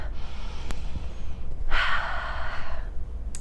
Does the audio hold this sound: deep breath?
yes